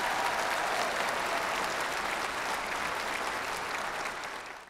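A church congregation claps steadily and continuously, a dense wash of applause that fades slightly at the end.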